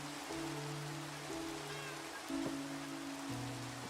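Steady rain hiss falls in the Minecraft video game, soft and continuous, with low sustained tones from background music running beneath it and no voices.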